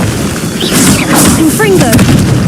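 Confringo blast spell cast in Hogwarts Legacy, a booming burst of magic amid loud game combat noise, with a voice speaking over it.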